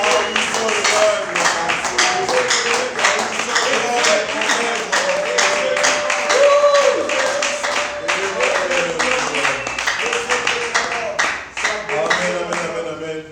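A church congregation claps in quick rhythmic unison during a worship service, with loud shouts and voices praising the Lord mixed throughout the steady applause.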